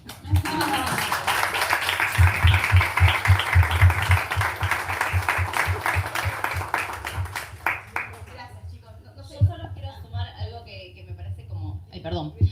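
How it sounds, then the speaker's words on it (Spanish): A crowd at a program presentation in Argentina bursts into sustained applause with many hands clapping, loud and dense for several seconds, then tapering off as talking resumes. "¡Aplausos!"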